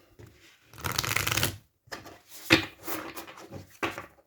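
Oracle cards being shuffled by hand during a tarot-style reading, several close, dry riffling bursts separated by short pauses, with no voice over them.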